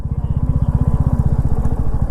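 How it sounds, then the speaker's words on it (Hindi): A Commando motorcycle rides through deep desert sand on the way from Bikaner to Jaisalmer. Its engine is loud and close, with a steady, rapid pulsing throb that holds throughout. "मैं रेत में पहली बार चला रहा हूँ, और बाइक"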